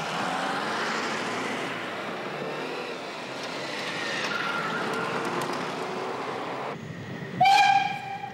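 Train rumbles along the track toward a small halt in former East Germany, a steady rolling clatter that quietens before a loud horn blast near the end.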